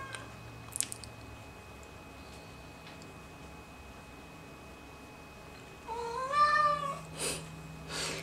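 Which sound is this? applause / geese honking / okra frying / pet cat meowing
pet cat meowing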